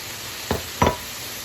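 Celery and snow peas tossed into stir-fried pancit canton, giving two short scraping, rustling bursts of stirring against the pan over a low background hiss.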